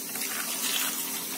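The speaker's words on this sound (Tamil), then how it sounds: "இப்போ இந்த ஸ்டேஜில் ஒரு 100 ml தண்ணி ஊற்றிக்கோங்க." About 100 ml of water pours steadily into a pan of chickpea and brinjal gravy, a brief, even hiss up close with no talking.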